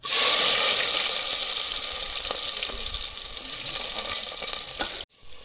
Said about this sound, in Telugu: ఉల్లిగడ్డలు ఫ్రై అయినాయి